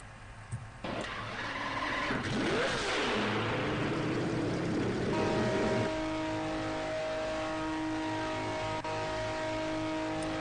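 A video game sports car engine in Vehicle Simulator revs up and holds a high, buzzing whine, steady and loud, with a brief pitch swell near the start, continuous.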